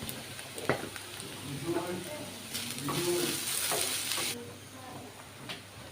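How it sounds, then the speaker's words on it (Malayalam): Onions sautéed with salt in a pan for a Kerala egg masala give a moderate sizzle with intermittent stirring scrapes and a faint voice in the background. "അതിൻ്റെ ഉള്ളി നന്നായി വാടി വരുന്നവരെ ഒന്ന് ഇളക്കി കൊടുക്കുക"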